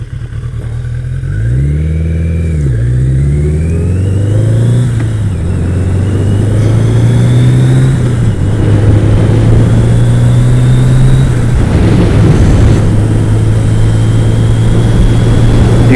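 A motorcycle engine revs and accelerates close by on a Father's Day road ride, loud and continuous as it climbs through several gear changes with rising and dropping pitch, no talk over it.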